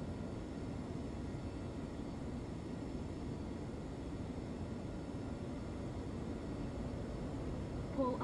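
Steady, moderately quiet jet engine roar of an F-22 Raptor in Microsoft Flight Simulator, an even broadband rumble and hiss throughout with a faint chirp near the end.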